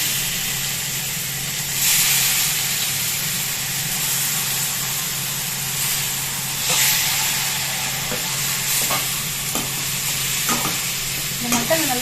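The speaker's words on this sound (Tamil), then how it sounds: "இப்போ இதில் மட்டன் சேர்க்குறேன்" Mutton pieces for uppu kari fry in hot oil in a pan, a steady loud sizzle and hiss with occasional stirring scrapes and swells, close and continuous without talk.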